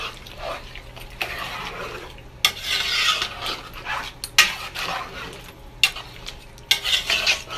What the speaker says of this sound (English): You want to make sure you stir it really good.